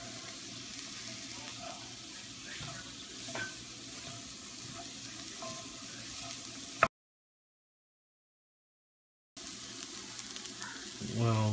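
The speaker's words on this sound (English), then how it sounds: "Well, this is all sauteing." Garlic sautés in a pan for mushroom risotto, a soft, steady sizzle with light stirring, broken by a short gap of silence before the frying resumes.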